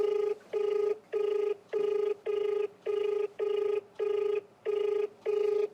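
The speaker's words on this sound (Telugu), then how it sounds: "రింగ్ అవుతుంది" Outgoing phone call ringback to a Khanapur MLA: eight evenly spaced ring bursts, each about half a second long with short silent gaps, steady and clear with no talking.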